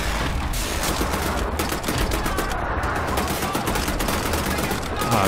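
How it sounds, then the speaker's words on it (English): A single gun fires rapid automatic bursts in Wolfenstein: The New Order, a dense, loud stream of repeated shots continuing throughout amid battle noise. "I'm only firing with one gun, so dumb."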